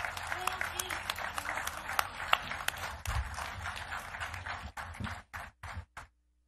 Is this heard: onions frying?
no